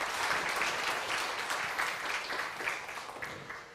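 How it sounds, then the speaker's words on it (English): A large conference audience applauds a speaker, dense steady clapping heard from a distance at moderate level that tapers slightly toward the end. "Let's give Ambassador Akiva Tor with a big round of applause."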